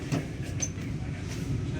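A Pasundan passenger train rolls along the rails in Indonesia, a steady low rumble with faint rhythmic clacks and a brief high squeal, heard from inside with a voice in the background.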